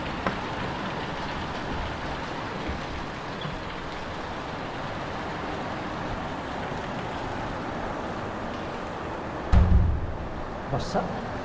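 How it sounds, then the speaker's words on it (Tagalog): Steady, dense rainfall hisses continuously close by, with a brief louder thump near the end and faint voices under it. "Pabasa pala dito pag ulan, no?"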